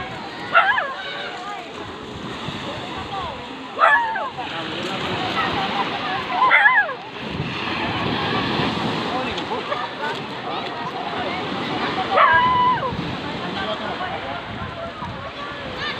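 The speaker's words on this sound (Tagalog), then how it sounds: "marami mga tao dito naliligo guys. Sa dagat na ito." Sea waves wash steadily at a busy beach where many people are swimming, a broad continuous surf noise with a few louder surges, under nearby talk and distant crowd voices.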